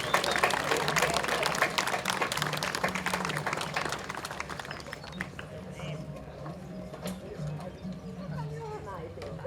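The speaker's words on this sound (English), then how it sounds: "Come on, give them a big round of applause and give them a bit of encouragement." Crowd at an outdoor Australia Day event in Lithgow applauding as a band comes on, with a dense burst of clapping that fades into a softer murmur of crowd noise and scattered claps.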